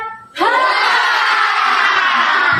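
Group of people shouting together in unison after a stretching exercise during a teacher training session, a sudden loud sustained collective yell lasting about two seconds.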